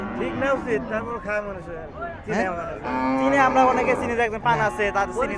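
Local cattle low and moo at a crowded cattle market in Kalampur, with drawn-out, wavering calls rising over steady voices talking nearby throughout.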